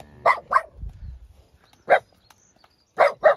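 A dog barks on a walk near a field. Five sharp, close barks come in short bursts with gaps between them, two early, one in the middle and two quick ones at the end.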